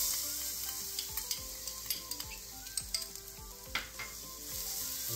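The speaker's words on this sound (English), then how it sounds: "Then we're gonna go ahead and add the garlic at this point." Garlic sizzles in hot olive oil in a pan, a constant bright hiss with scattered pops, while a utensil stirs and scrapes in a quick irregular run of light taps partway through.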